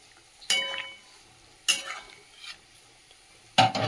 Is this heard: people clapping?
no